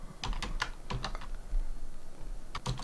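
Quick, light keystrokes tap on a computer keyboard while entering names into an Excel 2016 spreadsheet, coming in short irregular bursts with pauses, close and fairly quiet.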